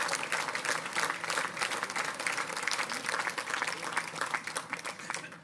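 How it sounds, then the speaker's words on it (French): Warm applause from the audience at a mayor's New Year address in Valence, a sustained dense clapping from a hall crowd lasting several seconds. "je crois qu'on peut applaudir"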